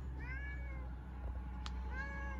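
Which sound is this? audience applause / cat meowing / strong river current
cat meowing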